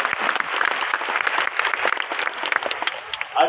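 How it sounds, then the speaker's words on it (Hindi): Audience applause in a stadium welcoming Gujarat chief minister Bhupendra Patel at a public event: steady, dense clapping from a large crowd, loud and continuous with a brief swell near the end, no talk over it. "जोरदार आप तालियां बजा के स्वागत करें"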